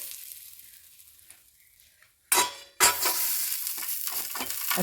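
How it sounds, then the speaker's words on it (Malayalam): Heated oil hits chili powder for a tender mango pickle with a sudden loud burst of hissing. A second surge follows, then the bright sizzle carries on close and strong after a faint quiet start, with no voices. "അതിലേക്ക് ഈ എണ്ണ ചൂടാക്കിയെടുത്ത എണ്ണ ഒഴിച്ചു കൊടുക്കാം"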